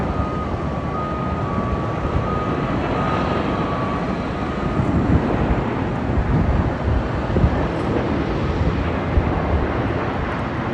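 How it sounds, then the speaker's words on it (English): A JetBlue A321neo arriving at London Heathrow from JFK passes with a continuous broad jet roar, fairly loud and steady, mixed with gusty wind buffeting on the microphone. "JetBlue's A321neo coming in from JFK."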